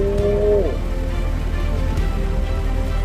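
Steady rain falls at an outdoor work site where posts, CCTV and lighting are being installed, a dense continuous hiss with a brief tonal whine fading early on.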